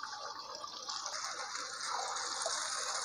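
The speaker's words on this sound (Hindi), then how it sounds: "अब हम इसमें दाल ऐड करेंगे।" Chana dal goes into fried masala in a pan for a restaurant-style chana dal fry, with a continuous, moderately quiet rushing, watery pour and hiss that builds slightly toward the end.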